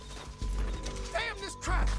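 Horse hooves clip-clop in the video game Red Dead Redemption 2, a quick series of clattering steps heard with game sounds and a voice under them.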